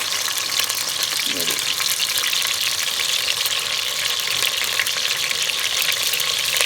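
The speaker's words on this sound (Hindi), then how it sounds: "इसको पहले फ्राई करूँगी काली मिर्च और नमक के साथ" Half a kilo of meat frying with black pepper and salt in a pan, a loud, constant sizzle with stirring and scraping throughout.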